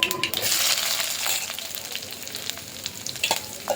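Mustard seeds, ginger, garlic and chopped shallots fry in hot oil for a prawn curry, with a loud close crackle at first that settles into a steadier sizzle broken by sharp pops.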